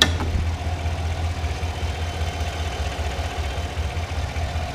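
A 2015 Cadillac Escalade's 5.3 liter V8 idles steadily with a low, even rumble close by, running alone for the whole stretch with no talking.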